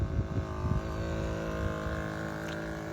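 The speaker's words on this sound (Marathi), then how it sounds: "आता हे फवारणी चालू केलेली आहे सिंगल मोटार चालू आहे" A suitcase-style crop spray pump runs on a single motor during field spraying, giving a loud, steady droning hum with sustained tones and a few low thumps at the start, close by with no voices.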